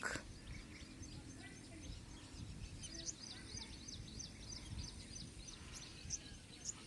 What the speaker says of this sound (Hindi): चिड़ियों की आवाज़ जो है ना, बहुत ही चूं चूं चूं चूं चूं चूं खूबसूरत।